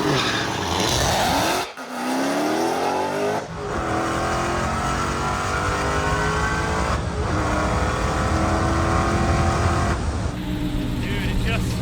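A manual Dodge Demon race car roars at high revs with screeching, spinning tires at launch, the engine note climbing through gears and loud throughout, with brief voices faintly underneath.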